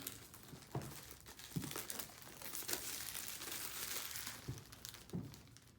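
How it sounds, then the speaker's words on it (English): Plastic wrap being torn and crinkled off Beats headphones packaging, a continuous close, soft rustling and crackling with a few sharper crinkles, no talking. "You can't just tear the plastic off."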